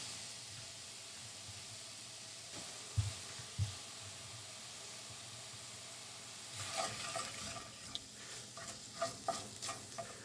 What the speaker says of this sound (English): So then I'll just let the sausage keep cooking.